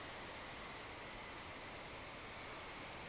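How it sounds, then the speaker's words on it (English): Jet-engine powered car in the racing game Project Gotham Racing 4, a constant roaring whoosh with a thin high whine running steadily through, quiet and unbroken, with no voices. "I didn't know it was powered by a jet engine"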